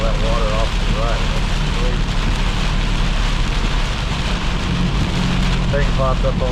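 Heavy rain pours steadily on a car driving in rush-hour traffic, a loud unbroken hiss over low road and engine rumble, with faint whistling tones near the start and end.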